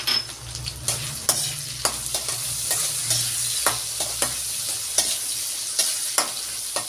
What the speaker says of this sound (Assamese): এক মিনিটমান আলুখিনি মই এইদৰে ভাজি ল'লোঁ